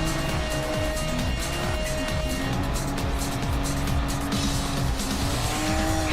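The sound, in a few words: Porsche race cars racing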